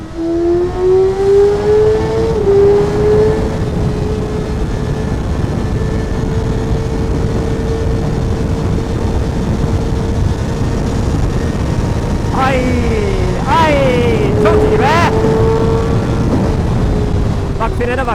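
Kawasaki ZX6R motorcycle engine held at a steady, buzzing idle-to-midrange drone, then revved hard several times near the end with rising and falling pitch, loud and close with wind noise and some talking over it.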